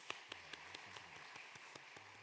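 A church congregation applauding to welcome a visitor, a faint, steady run of individual claps at an even rhythm, heard from a distance in a quiet room.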